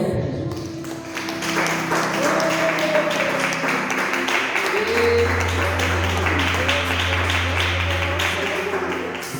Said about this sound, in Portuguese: palmas de alegria, Jesus